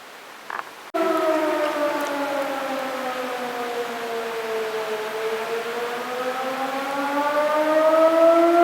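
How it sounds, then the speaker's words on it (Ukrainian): A civil defense air raid siren sounds during a sudden alert while visiting a canyon in the settlement of Buky, Ukraine: a loud, sustained wailing tone that starts abruptly after a short quiet moment and slowly rises and falls, with no talk over it. "І тут повітряна тривога."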